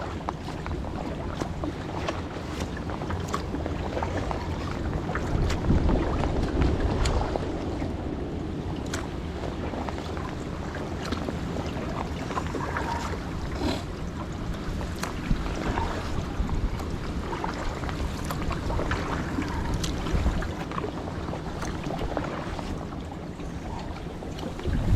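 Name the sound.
wind blowing while kayaking on a winter pond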